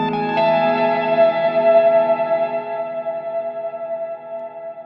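A sustained electric guitar chord rings out with a washy reverb tail, slowly decaying and shimmering over several seconds, played alone.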